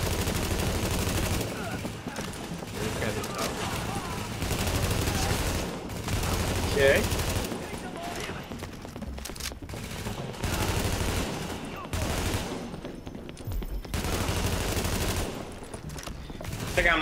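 Shotgun blasts and heavy gunfire in a fight in The Division, a dense, continuous barrage of repeated shots across the whole stretch, with people talking over it.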